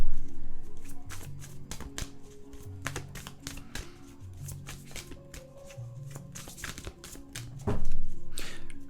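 Oracle cards shuffled and tapped close by, a string of crisp slaps and riffles under a low hum, with a louder knock near the end.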